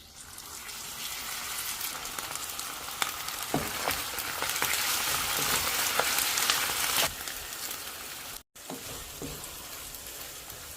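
Rice tips into a pan with pure coconut milk and is stirred while frying. A steady loud sizzle runs throughout, scraped by several sharp stirring clicks, then drops out briefly before resuming.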